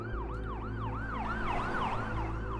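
A wailing ambulance siren sweeps up and down rapidly and repeatedly over a low rumble of traffic, loud and steady throughout.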